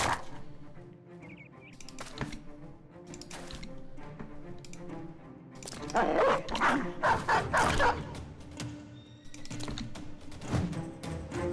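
Dogs barking in a video game, repeated sharp barks and yips in bursts over a steady tonal background hum, loudest through the middle, close-up with no talk.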